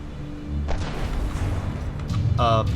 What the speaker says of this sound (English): All the Hawkhounds fire a volley at the